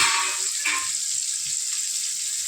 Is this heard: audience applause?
no